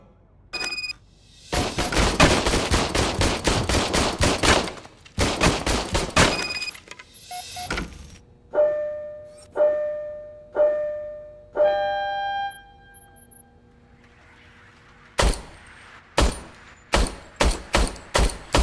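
Old service pistol in RoboCop: Rogue City fired in rapid strings of sharp shots, then several single spaced shots ringing with metallic tones, a pause, and a final run of loud shots.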